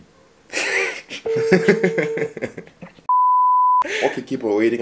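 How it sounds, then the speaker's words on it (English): Phone call ringback tone, a single steady electronic tone lasting under a second, loud and clear, with voices talking before and after it. "Ringing."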